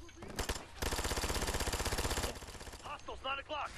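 P90 submachine gun fire in the Ghost Recon Future Soldier video game: one sustained rapid automatic burst of about a second and a half, loud and close, followed by voices talking.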